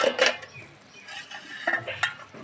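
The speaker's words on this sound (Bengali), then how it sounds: "এবারে ঢাকনাটা খুলে দেখে নিই" A metal pot lid lifts off a pot of pui metuli (Malabar spinach stems) cooking in a rustic village kitchen. A few short clanks and scrapes sound close by over quiet kitchen background.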